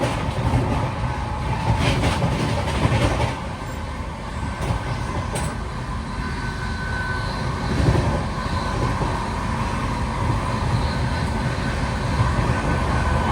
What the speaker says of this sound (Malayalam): ട്രെയിൻ ഇപ്പോൾ ഗാസിയാബാദിനോട് അടുക്കുകയാണ്.